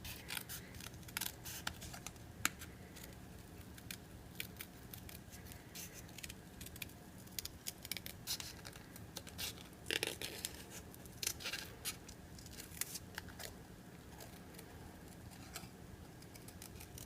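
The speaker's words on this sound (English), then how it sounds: "After you have stamped and colored your image, you will want to cut out your pumpkin." Scissors snip steadily around a stamped and colored paper pumpkin for a Halloween card. Quick, soft crisp cuts repeat in a dense rhythm over a low background hiss, close up with no speech.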